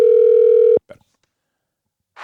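A telephone dial tone hums steadily for under a second, cut off by a click as a call to a sister is placed, followed by brief clatter and silence before a faint voice begins.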